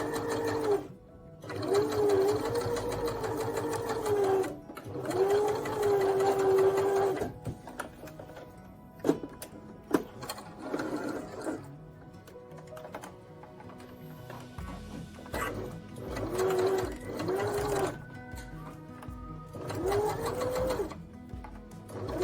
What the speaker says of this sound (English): we're just going to stitch across our line, just back tacking at the beginning and the end.